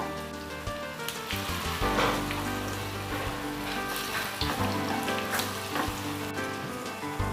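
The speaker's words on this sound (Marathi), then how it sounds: "ह्याची दुसरी बाजू सुद्धा आपण पलटी मारून तळून घेऊया" Alu vadi, Maharashtrian colocasia-leaf rolls, shallow-frying in oil in a pan, with a loud, continuous crackling sizzle and scattered popping spatters up close, alone without speech.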